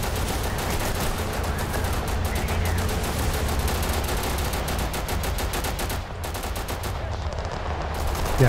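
Sustained automatic gunfire in the video game Total Conflict: Resistance, a dense, continuous stream of loud rapid shots that keeps going across the whole stretch with only a brief thinning near the end.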